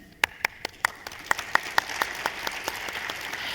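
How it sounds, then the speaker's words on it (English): Conference audience applauding as presenters are welcomed to the stage: a string of distinct, sharp claps standing out over a rising wash of general clapping that keeps building toward the end. "please help me welcome to the stage with your boldest applause our presenters"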